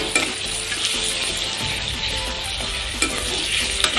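Meat frying in hot oil while being stirred, a loud, continuous close sizzle with occasional scraping and knocking of the utensil against the pan, and no voices.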